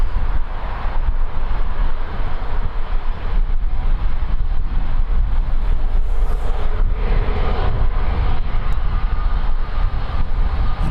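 An Airbus A321neo at Birmingham Airport produces a continuous, heavy jet engine roar, loud and steady throughout the stretch with no voices over it.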